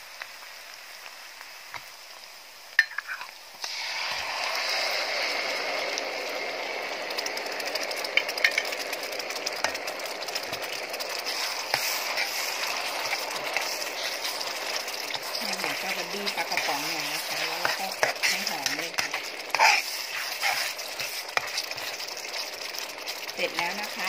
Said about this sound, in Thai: เราก็เอาปลากระป๋องนะคะมาคั่วให้หอมก่อนนะคะ